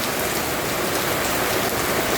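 Heavy rain pours steadily on a Saturday, a dense, even hiss of drops drumming on surfaces throughout, close and loud with no pauses.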